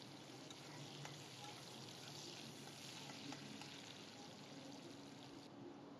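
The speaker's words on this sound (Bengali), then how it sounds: "পেঁয়াজটাকে ভালোভাবে গোল্ডেন কালার করে ফ্রাই করে নেব।" Sliced onion frying in a pan with oil, cooked toward golden for a prawn and taro-stolon curry: a faint, steady sizzle and crackle throughout, with no voices.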